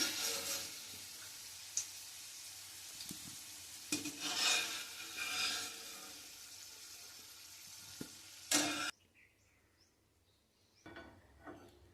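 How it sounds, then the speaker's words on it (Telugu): Amla gooseberries fry in a pan while being stirred, with a faint sizzle and intermittent scraping and clattering of the spoon, louder bursts near the middle, then dropping to near quiet with a few light taps. "ఈ ఉసిరికాయలు కూడా అదే రకంగా వేయించేసుకుని తీసుకుందాం."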